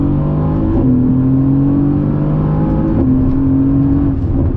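Mercedes-AMG GT engine in Sport Plus mode accelerating hard on throttle, a loud, steady close-up engine roar that rises in pitch through two upshifts with no talking.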